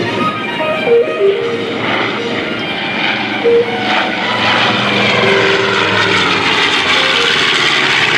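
A B-25 Mitchell bomber flies past at an airshow, its twin propeller engines a loud, continuous droning roar that swells slightly and holds steady throughout, with a faint rising whine riding on top.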